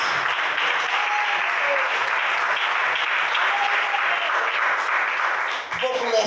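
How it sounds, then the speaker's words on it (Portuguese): A church congregation clapping at an evening worship service, steady loud applause filling the room for about six seconds with faint voices underneath. "Mais palmas para Jesus."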